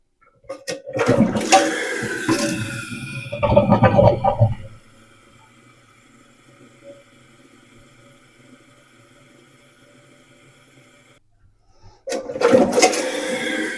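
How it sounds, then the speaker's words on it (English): A Kohler toilet with a freshly repaired handle flushes with a loud, rushing surge for about four seconds. A quiet, steady refill hiss follows, then another strong rush of water starts near the end. "So I'm going to turn it back on and make sure it flushes good."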